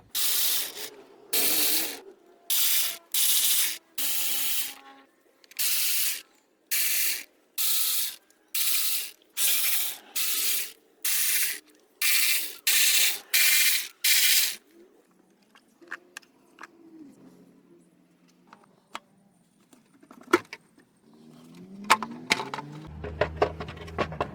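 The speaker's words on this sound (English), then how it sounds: "now I'm gonna be taking out the valve cover, the old 10mm bolt" Old 10mm valve cover bolts on a Hyundai Tucson engine are loosened with a ratchet, giving a dozen or so sharp, evenly spaced ratcheting bursts, followed by quieter clinks and handling of metal parts.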